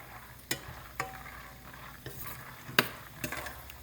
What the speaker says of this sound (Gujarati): તો હેડો હવે સિંગનો શેકી લઈએ મસ્ત એવી તેલમાં ધીમા ગેસે.